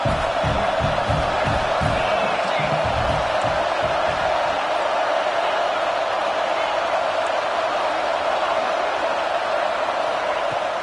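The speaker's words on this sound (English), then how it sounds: "This crowd is trying to make a difference in this football game and cheering on their defense" Football stadium crowd roaring steadily to cheer on the home defense during a fourth-down play, a dense continuous wash of voices and whoops heard from within the stands for the whole stretch.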